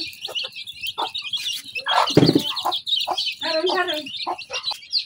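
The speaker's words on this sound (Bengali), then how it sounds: "এখন খুদ গুলা খাইতেছে" Desi chickens feed on broken rice, clucking and chirping close by in quick, irregular calls with short pauses and one louder squawk midway.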